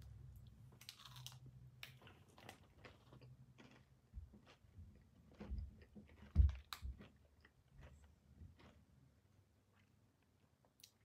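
Crunchy MrBeast Feastables chocolate bar being bitten and chewed close to the mic, a quick irregular run of crisp crunches and clicks with one louder bite partway through.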